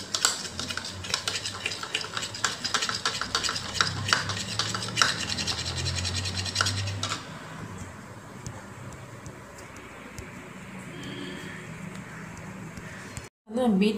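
A face pack of rice water is stirred and beaten into a creamy mixture in a bowl, making brisk, rhythmic scraping strokes close by that ease into quieter, gentler mixing.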